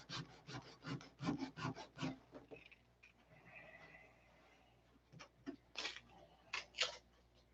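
Hand sanding to rough up an epoxy line on an aircraft canopy, a series of close, rhythmic rasping strokes, a quieter pause, then more strokes.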